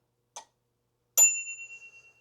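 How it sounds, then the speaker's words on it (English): The bell on a Velotric Discover 2 e-bike gives a faint tick, then one bright ding that rings on and fades over about a second, close by and with no talking. "came with a bell."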